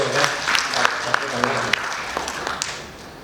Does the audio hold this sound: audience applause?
yes